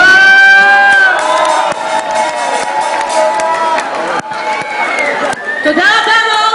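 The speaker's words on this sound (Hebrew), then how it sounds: "בואו ניתן הרבה מחיאות כפיים" A concert crowd at a Shavuot show in Kibbutz Afikim cheers and whoops loudly and continuously, a dense wall of shouting voices close up, with bursts of applause rising and falling throughout.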